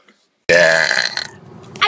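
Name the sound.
burping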